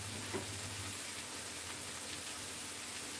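Food fries with beef tallow on a barbecue while a burger is being cooked, giving a steady, close, continuous sizzling hiss with no talking.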